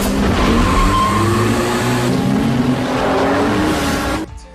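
Racing car engine droning loudly with skidding tires in the video game Rocket League, a continuous sustained roar with a faint rising whine, cutting off abruptly near the end.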